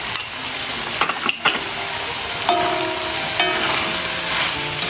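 Green beans and long beans hit a hot pan and stir-fry with a loud, continuous sizzle, while a few sharp clinks and scrapes from stirring come early and a faint ringing tone hangs underneath.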